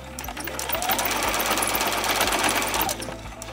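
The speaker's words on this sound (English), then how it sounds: "And I'm just going to sew." A sewing machine stitches pieces of fabric scraps together in a steady, continuous run of rapid needle strokes, close and fairly loud, with no talk.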